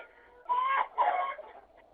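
Chickens clucking nearby, two short bursts of throaty clucks separated by a brief pause, with quiet background between.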